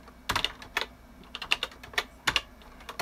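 Keys clatter on a Tandy Coco 3 computer keyboard as a short program is typed, with close, crisp clicks arriving in quick clusters separated by brief pauses, and no voices.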